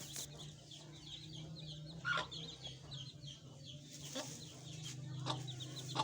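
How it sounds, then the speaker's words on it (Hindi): Backyard hen clucks softly among her newly hatched chicks, whose thin high cheeps come in quick scattered bursts over a low hum, with a few louder clucks standing out. "उधर मेरी मुर्गी है, उन्हें बच्चे कड्ढे ने"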